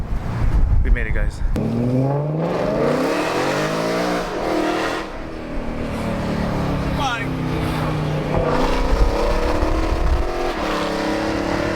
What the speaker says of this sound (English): love the way the E92 sound, guys.